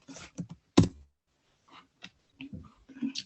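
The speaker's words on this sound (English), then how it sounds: "Oh, sorry, I'm typing with one hand." Quiet one-handed typing on a computer keyboard: a few scattered key clicks and a sharper tap near the start, then sparse soft taps, with no talking.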